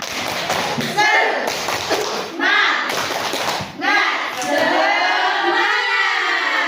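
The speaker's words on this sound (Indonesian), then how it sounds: "Coba tepuk semangat dulu ya. Tepuk semangat." Elementary schoolchildren in a classroom do a rhythmic spirit clap, with bursts of clapping and thumping in patterned groups mixed with their chanting voices, close and loud.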